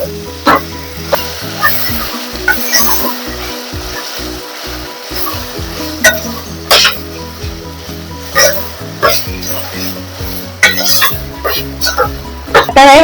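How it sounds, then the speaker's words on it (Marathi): Mutton and onion sauté in oil for a spicy Malvani curry, with a crackling sizzle broken by loud, sharp clanks of stirring at irregular intervals. "व्यवस्थित या कांदा आणि तेलामध्ये परतून घ्यायचंय छान असं"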